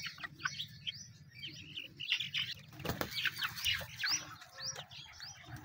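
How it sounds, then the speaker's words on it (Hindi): An aseel rooster and a group of desi chickens cluck and chirp softly at close range in a quiet evening yard, with scattered short calls, brief wing flaps and soft rustling throughout. "बड़ा असील मुर्गा है"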